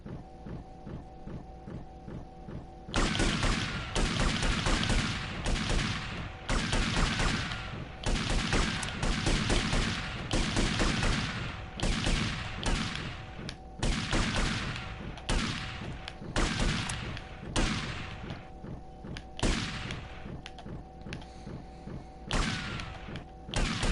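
A volley of gunfire in GTA Vice City, a long run of loud, rapid, closely spaced shots in bursts over a steady mechanical hum, with brief pauses between strings of fire.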